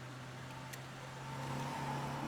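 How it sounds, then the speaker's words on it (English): A car driven in Max Payne 3, a steady low engine hum that swells slightly toward the end, fairly faint and with no talk over it. "Just drive the fucking car."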